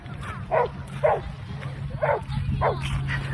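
A dog barks four times in an even rhythm, somewhat distant, over steady low background noise from a motor or boat, on a beach at Calshot.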